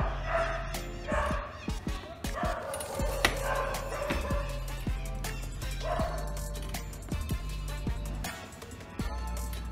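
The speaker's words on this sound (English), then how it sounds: "you can hear also by the background of the dogs barking" Several dogs bark and yip repeatedly in the background, some sharp and close, others more distant, in irregular bursts with short whimpers between, and no talk.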